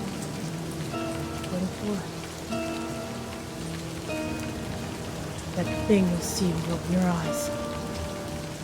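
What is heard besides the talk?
rain pouring, from a video game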